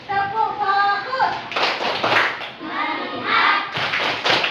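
A classroom of children does a rhythmic group clapping routine, with bursts of claps in patterned beats alternating with a teacher and the kids chanting.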